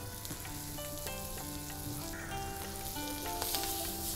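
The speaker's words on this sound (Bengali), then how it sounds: "আমি মিডিয়াম হিটের মধ্যে একটু নাড়াচাড়া করে, এটা তো অনেক বেশি লাগবে না, একটু নাড়াচাড়া করলে হয়ে যাবে।" Vegetables sautéing in a pan over medium heat, a steady close sizzle with intermittent stirring and scraping, overlaid by tonal background music, no one talking.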